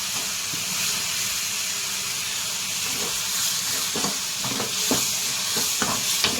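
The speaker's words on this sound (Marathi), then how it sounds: "असे व्यवस्थित फ्राय करून घेऊ" Prawns marinated in a green paste of ginger, garlic, coriander and mint fry in a pan, with a steady loud sizzling hiss and scattered scraping stirs from a spatula close by.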